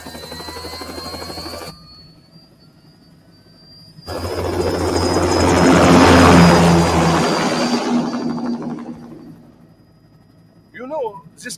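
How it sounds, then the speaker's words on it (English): An aircraft takes off in the video game Metal Gear Rising: Revengeance. A high whine fades, then a loud engine roar swells, peaks and gradually recedes. A clipped voice speaks near the end. "Commencing takeoff in semi-auto mode."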